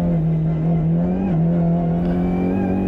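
Onboard engine note of the Audi RS 3 TCR touring car at the Nurburgring in TCR Europe 2021, a loud sustained drone with a brief dip in pitch midway, like a gear change, then holding steady.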